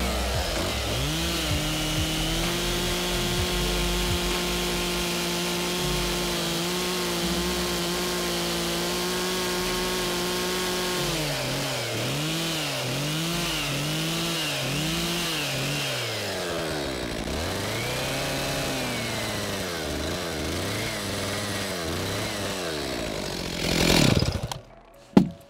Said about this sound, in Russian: Все, начинаем прибираться просто бензопилой.